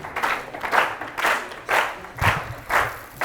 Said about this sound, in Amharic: በደንብ አድርጋችሁ አጨብጭቡለት ለንብረት።